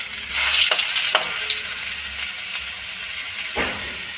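Whole spices (cardamom, cinnamon and four cloves) with ginger sizzling loudly as they fry in hot ghee for navratan pulao, a steady close crackle with a few sharper pops and no talking.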